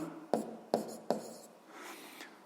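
A pen writes on paper, close up, while a physics problem is jotted down: three short, sharp scratchy strokes at a steady pace, then softer scribbling, with no voices.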